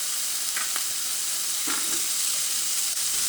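Potatoes, onion and sausage sizzle and fry in oil in a pan over medium heat for a Spanish tortilla, with a steady hiss and a few brief clinks of stirring.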